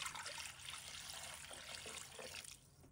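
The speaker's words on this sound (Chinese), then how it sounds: "倒入清水" Clean water pours into a cooking pot holding rinsed salted pork ribs, a soft steady trickle and splash that fades out near the end, quiet and close with no voices.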